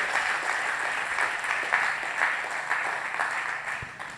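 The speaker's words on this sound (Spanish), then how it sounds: "Denle un aplauso a Dios por lo que Él quiere hacer en esta nación." A church congregation breaks into sustained applause, with dense, even clapping that fills the room at a steady loudness. It fades slightly at the end, and almost no talking is heard.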